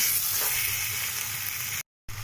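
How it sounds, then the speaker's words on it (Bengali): Masala fries in a pan with tomato sauce added, giving a continuous soft sizzle up close that cuts out briefly near the end and then resumes. "10 মিনিট কষার পর আমরা এর মধ্যে 1 table spoon tomato sauce add করব। এবার আরও 5 মিনিট পর্যন্ত ফ্রাই করে নেব।"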